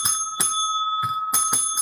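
A bright metallic bell rings in quick repeated strikes, two dings, a pause, then three more, close and clear with no talking.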